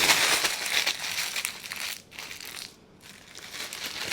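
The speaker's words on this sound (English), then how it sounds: "a way to get parchment paper in here, a little trick if you don't know, is you crumple it up" Parchment paper is crumpled up by hand in a kitchen, giving loud continuous crinkling and crunching that pauses briefly twice before resuming.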